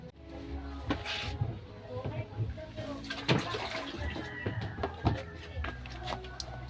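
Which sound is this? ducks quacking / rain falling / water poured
water poured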